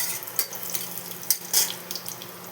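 Dried red chili and nigella seeds dropped into oil that is still heating in a pan for a Bengali tempering, giving a soft, steady crackle and hiss with a few small pops and clinks nearby, no talking.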